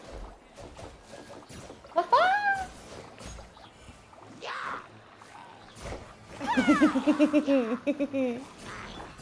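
A cat meows in a video game, first with one short rising mew and later with a longer, louder series of wavering meows. People talk and game effects play around the meows.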